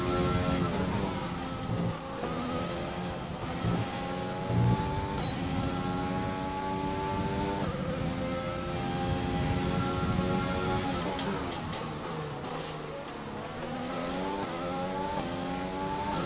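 Formula 1 race car engines in the video game F1 2020 scream continuously at high revs, with pitch climbing and dropping through gear changes. Several cars overlap, loud and sustained, with no talk.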